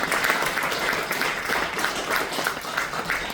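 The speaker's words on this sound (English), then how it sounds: "Give yourselves a round of applause here." A crowd at a campaign kickoff event applauds, a dense, steady wash of many hands clapping at once, close and loud for the whole stretch with no talking over it.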